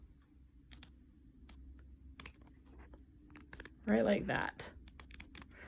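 Scissors trim a raw fabric edge for a hem, giving a scatter of crisp, close snips spaced irregularly, with someone speaking briefly partway through.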